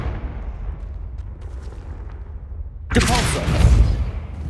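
A Confringo explosion spell from the Hogwarts Legacy video game bursts suddenly after a low rumbling lull, a loud booming blast that rolls on for over a second.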